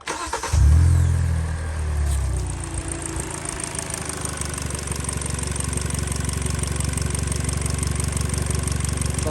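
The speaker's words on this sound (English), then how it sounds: "Let me start it for you guys so you guys can hear it." A 2013 Hyundai Elantra 1.8L engine cranks and catches with a loud rising burst, then settles into a steady, slightly shaky idle that drones on evenly for several seconds, close up with no talking.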